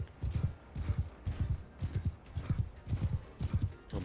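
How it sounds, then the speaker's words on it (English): A horse gallops in Mount & Blade II: Bannerlord, its hooves giving a steady, rhythmic clip-clop that carries on throughout at moderate loudness, with no talking. "Oh my god, this horse is so slow."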